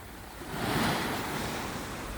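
Sea waves breaking on the shore in the early morning, a steady broadband wash of surf that swells and holds near, with some wind noise and no voices.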